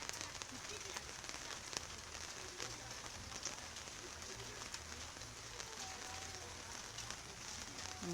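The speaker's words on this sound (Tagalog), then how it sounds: "Grabe ang ulan, oh." Heavy rain pouring steadily during flooding at a home, a dense continuous hiss of drops hitting surfaces, even and unbroken throughout.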